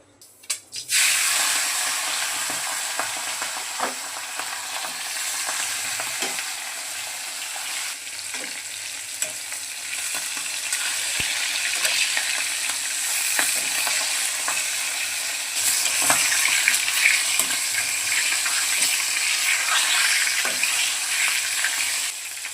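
Fish heads frying in hot oil in a wok make a loud, continuous sizzle that swells slightly midway. Occasional utensil taps and scraping stirs come through over the long crackling hiss.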